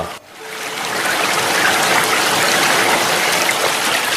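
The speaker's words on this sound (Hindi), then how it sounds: "इसी गंगोत्री धाम तीर्थ से निकलती है पतित पावनी देव नदी" The Ganges flows at Gangotri, its mountain water rushing in a steady, loud, broadband roar that continues without a break from start to finish, with no voices over it.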